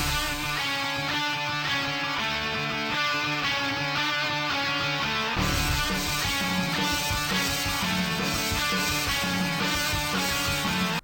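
Upbeat electronic title-screen music from a Bloons spin-off video game plays continuously, a looping melody with steady beats that grows fuller and louder halfway through.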